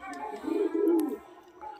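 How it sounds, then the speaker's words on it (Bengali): A pair of pet pigeons, one a black-necked bird, gives a low throaty coo rising and falling for about a second, close and fairly clear against a quiet background. "এই দেখুন আরও এক জোড়া পায়রা"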